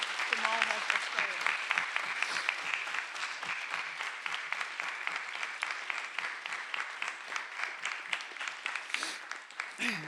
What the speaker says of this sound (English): So can we take this time to honor Claire with a round of applause?